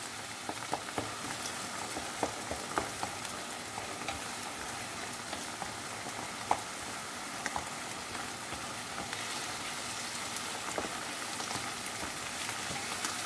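Tomato, garlic, pepper and parsley cooking in a pan, a steady soft sizzle and bubbling with scattered faint pops and ticks throughout, quiet and close.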